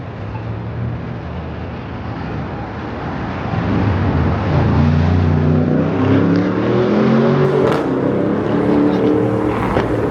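A car on a city street near Fremont Street in Las Vegas accelerates toward a red light, its engine rising from a low rumble into a loud, building rev as it passes close by.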